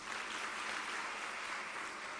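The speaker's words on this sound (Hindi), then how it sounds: "एक बार इसके सब के लिए ताली बजाइए।" An audience at a religious discourse claps in a dense, continuous wash of applause that stays steady and fairly faint throughout, with no talking over it.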